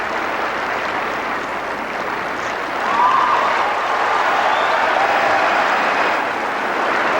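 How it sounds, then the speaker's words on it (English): A large arena crowd applauds and cheers on figure skaters in a pairs event at the 1987 European Figure Skating Championships, a dense, continuous wash of clapping that swells partway through, with a few shouts rising above it. "The crowd, however, continued to encourage the skaters as they continue to skate."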